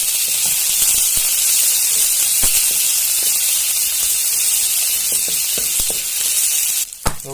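Chopped onion hits hot oil in a home kitchen, a loud continuous hiss and sizzle close up for several seconds, with a few faint clinks and a brief knock near the end.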